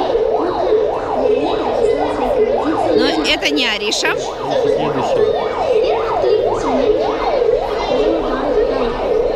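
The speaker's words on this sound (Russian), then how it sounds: "Снова едет скорая." A loud ambulance siren wails in steady rising and falling sweeps throughout, with a person talking over it.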